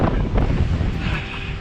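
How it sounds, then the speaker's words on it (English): Strong cold wind at Cannon Beach buffets the microphone in a steady, loud roar, with a low rumble of surf beneath it. "It's super windy."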